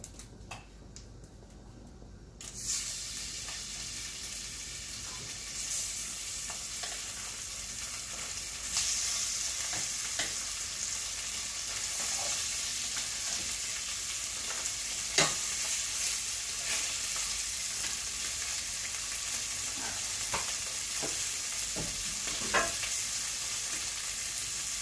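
Chicken and pepperoni fry in oil in a pan with a steady, close sizzle that thickens after a quiet start, broken by occasional clicks and stirring taps.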